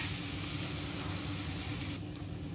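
Tomato chutney cooks in a pan over low heat, giving a dense, steady sizzle and bubbling hiss that stays close and even throughout, with no voices.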